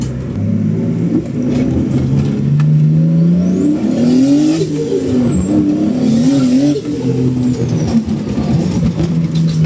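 A car fitted with a swapped-in German engine revs hard and climbs through its gears inside the cabin, its loud droning note rising and falling under steady engine rumble, with no talking.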